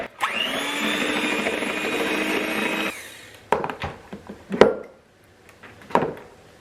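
An electric mixer beating three eggs in a bowl for zucchini bread: a steady high whirring drone for about three seconds, then it stops, followed by scattered clinks and knocks of the beaters against the bowl.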